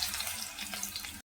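Chopped onion drops into hot oil with mustard seeds and urad dal for rava kichadi, giving a brief, bright, continuous sizzle that cuts off abruptly after about a second.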